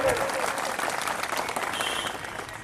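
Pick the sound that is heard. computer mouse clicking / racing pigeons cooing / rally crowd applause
rally crowd applause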